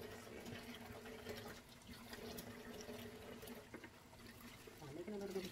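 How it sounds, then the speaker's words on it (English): A kitchen tap runs steadily to fill a sink with dishwater, a faint, even hiss and splash of water that continues throughout with no pauses. "Excuse the water running"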